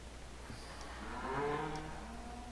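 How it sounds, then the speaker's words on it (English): Cattle in Farming Simulator 17 give a single drawn-out moo at middle distance over a steady low background hum. "There's a bunch more cattle."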